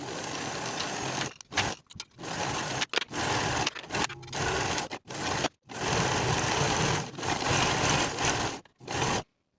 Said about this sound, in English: Sew from the bottom of the sleeve across the underarm seam to the bottom of the garment in one continuous stitch